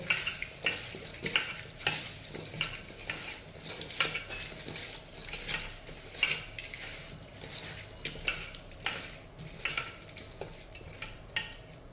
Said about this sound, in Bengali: এখন খুব ভালো করে এটাকে মিশিয়ে নিতে হবে।